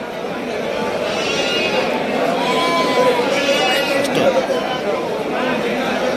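Three-month-old Bandur sheep lambs bleat in a pen, their calls rising over a constant background of people chattering nearby.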